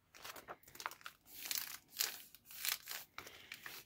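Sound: folding old paper atlas page for gift wrapping

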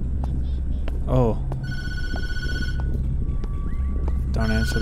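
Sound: telephone ringing, likely in a video game

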